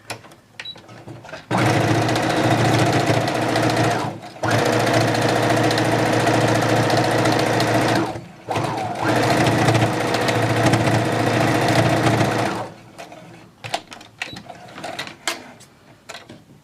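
A sewing machine stitches the last seam of a fabric headband: a loud, steady mechanical whir runs in three long bursts with brief pauses between them, then stops, leaving quiet handling noises.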